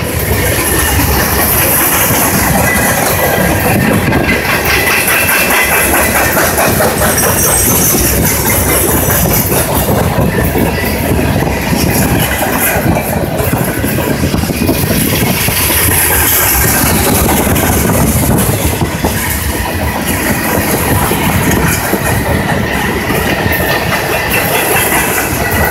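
A CSX mixed manifest freight train rumbles past close by, loud and steady, with continuous clattering of wheels over rail joints and no voices.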